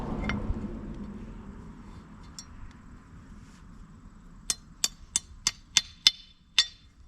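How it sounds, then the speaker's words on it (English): A hammer lightly tapping bushings into Thumper Fab doors on a Can-Am Defender side-by-side: after a quiet stretch, seven quick, sharp, clicky taps come in a fast, even run, fairly close and crisp. "lightly tap them there with a hammer, give it a couple smacks"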